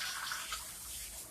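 A soft, steady hiss of running water rinses 4C hair at a salon wash sink, brief and fairly faint, with no one speaking.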